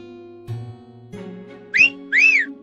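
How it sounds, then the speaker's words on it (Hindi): A person gives two loud, short whistles in a row over quiet background music and low tones in an animated Hindi story. "जोर से सीटी मारा"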